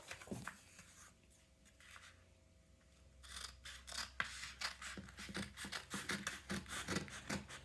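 Scissors snip through stacked strips of two-coloured paper for a paper weaving craft: close, crisp cuts that start sparse, then come in a quick, uneven run of sharp snips with papery rustle between them.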